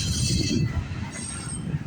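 A CN freight train passes close by, with loud rumbling rail noise, rolling wheels and a high metallic wheel squeal, steady throughout the short stretch.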